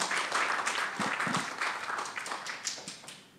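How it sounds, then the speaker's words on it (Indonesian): Audience applauding at a public consultation meeting for Bu Fitri, steady dense clapping from a roomful of people sustained throughout and tapering slightly at the end. "kita beri aplaus untuk Bu Fitri."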